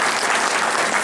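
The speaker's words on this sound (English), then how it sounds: "Everyone give another round of applause for these folks." Dense, steady audience applause fills the closing session of the Ohio Linux 2015 conference, a continuous wash of many hands clapping at full, even volume with no voices standing out.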